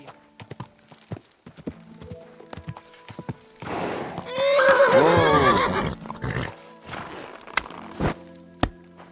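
In the video game Kingdom Come: Deliverance II, hooves clop along, then a horse whinnies loudly for a couple of seconds, followed by scattered knocks and thuds.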